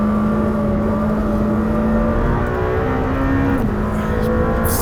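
Lamborghini Temerario engine revving hard toward 8,000 rpm, a steady loud mechanical drone with rising harmonic tones that climb then dip at a gearshift, heard from inside the car with no talk.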